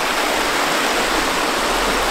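Steady rushing of stream water at a walking-track crossing in Nightcap National Park, loud and continuous, a broad even wash of flowing water close by with no voices.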